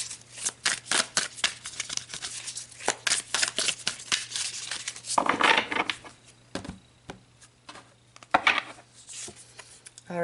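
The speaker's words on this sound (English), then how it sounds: "So let's pull a couple cards." Tarot cards shuffled by hand, a rapid close riffle of flicking card edges, then a louder slide-and-snap flurry and a few more as cards are drawn and laid down, with no talk.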